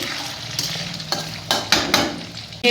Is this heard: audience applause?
no